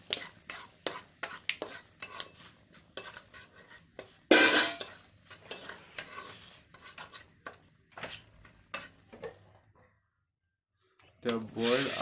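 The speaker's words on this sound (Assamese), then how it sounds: "এতিয়া অলপ লৰাই দিব লাগিব।" Potatoes and turmeric are stirred in a cooking pot with a metal spoon, producing repeated close scraping and clinking strokes in an uneven rhythm, interrupted by one loud sizzling burst, with soft talk in between.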